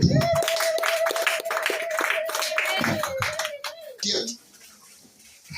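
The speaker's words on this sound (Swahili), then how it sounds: "Mpe Yesu makofi." A church congregation claps after a prayer for healing, with a quick run of crisp claps under a held sung or shouted voice before the clapping stops and a voice speaks.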